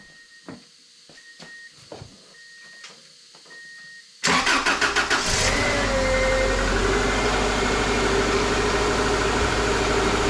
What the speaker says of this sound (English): now I'm going to start the car and turn the wheel.